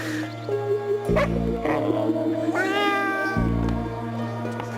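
A cat meows in drawn-out, rising cries over a steady low hum, several calls in a row at close range.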